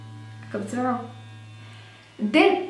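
A Foreo Luna 2 facial cleansing brush runs with a steady, low pulsating buzz that continues underneath two short bursts of talking.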